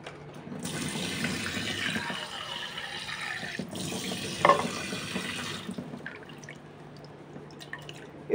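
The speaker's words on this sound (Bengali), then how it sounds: "চিড়াটা ধুয়ে রাখতেছি।" Flattened rice (chira) rinsed under a running kitchen tap, a steady close splash of water pouring for several seconds, then stopping and leaving faint drips and small clinks.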